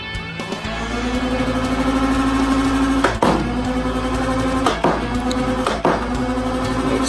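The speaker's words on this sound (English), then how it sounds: "let's go ahead and send all 10 rounds downrange and see what this thing can do" Fortnite Nerf Scar AR-L blaster revved up as a steady motor drone, with several sharp pops of darts fired at irregular intervals, close and loud.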